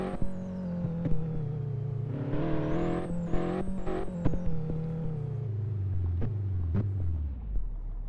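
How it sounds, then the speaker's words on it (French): A car in a racing video game launching from a standstill after a corner, its engine rumbling and revving up through rising tones with gear shifts, then the pitch sinking as it settles, close and fairly loud with no talking. "on va se faire un petit launch control après le virage"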